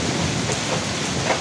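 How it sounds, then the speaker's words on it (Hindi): Heavy afternoon rain with hail pours down in a steady, dense roar that stays constant throughout, close and loud, with no voices. "3 बजे हैं अभी और इतनी तेज बारिश होने लग गई है"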